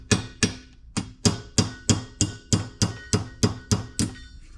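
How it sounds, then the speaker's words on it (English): Sharp metallic hammer blows strike in a steady rhythm, about a dozen ringing hits in quick succession, driving a pin out of a crank jack's gear, close and clear with no talking. "Now we can hammer out the pin."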